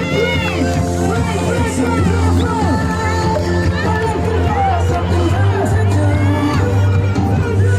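A crowd at a celebration cheers, whoops and shouts loudly and continuously, excited voices overlapping in a dense, close roar with no clear clapping.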